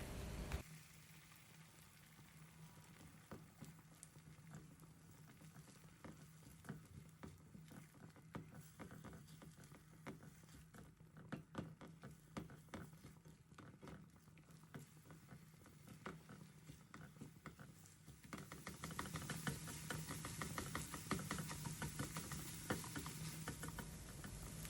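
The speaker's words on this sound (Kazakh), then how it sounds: "Енді тұз қосылған жұмыртқаны құямыз, араластырып пісіреміз." Salted beaten eggs sizzle and crackle in a pan while being stirred, a faint, irregular patter of frying with scraping stirs that grows slightly louder near the end, no voices.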